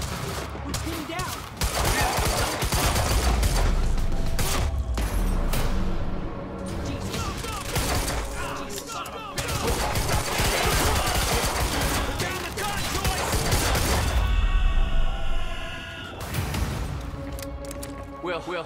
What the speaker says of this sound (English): Target's armed! Opening fire!